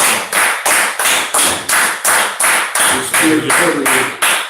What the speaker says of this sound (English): Let's clap, man